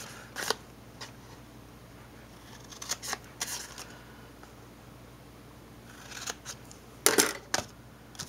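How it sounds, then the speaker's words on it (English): Scissors snipping paper along score lines while making a small lidded craft box, a handful of crisp short cuts spaced irregularly over a quiet background. "I'm just going to snip up on our score lines"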